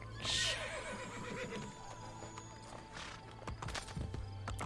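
A horse in Assassin's Creed Brotherhood gives a loud, close whinny at the start, followed by hooves clip-clopping and shuffling on stone through the rest.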